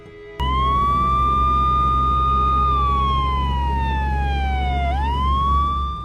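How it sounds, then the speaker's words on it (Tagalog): An ambulance siren starts abruptly and wails loud and close, holding a steady high tone and then sliding down and back up, over a constant low engine rumble. "ipinasundo na namin sa ambulansya si Baby Ella para madala sa ospital."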